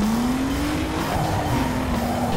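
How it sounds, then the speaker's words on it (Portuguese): Tires squeal steadily as a car drifts in Need for Speed: Underground 2, a loud continuous high screech with a slight waver in pitch riding over a low engine roar for the whole stretch. "Um drift, eu acho."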